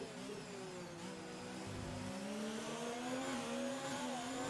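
Race car engines in a racing video game featuring Renault and Ferrari cars, a steady, faint, high droning whine of several engines holding pitch with slight rises, continuous throughout.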